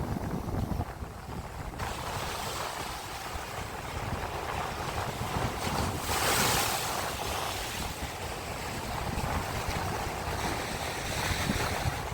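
Steady roaring surf and gusting wind at a Black Sea beach in Arcadia, Odesa, during a storm, with waves swelling louder now and then; no voices.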